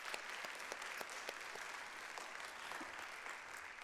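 Steady, dense applause from a conference audience at a culture and health forum, many hands clapping evenly at a moderate distance with no voices standing out.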